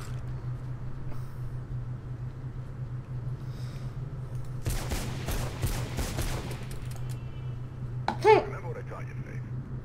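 Gunshots in Mirror's Edge ring out as a dense burst of sharp cracks over a steady low hum, followed by a single louder impact, while a voice talks throughout.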